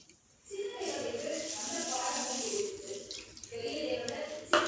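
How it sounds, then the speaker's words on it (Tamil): Water, about a tumbler's worth, is poured into a pan while making halwa, a steady splashing stream that starts abruptly and runs for several seconds, close and moderately loud, ending with a sharp clink. "இதில் வந்து ஒரு டம்ளர் தண்ணி ஊற்றிக்கலாம்."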